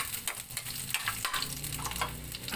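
Garlic and onion sauté in a hot pan, a busy crackling sizzle with scraping stirs and small pops, close and steady throughout.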